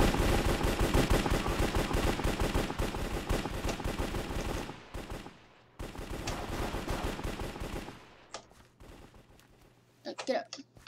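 AK-47 fire in Minecraft's Hypixel Cops and Crims mode: loud, fast automatic bursts for several seconds, a pause, another burst, then sparse shots fading as a voice talks over the end.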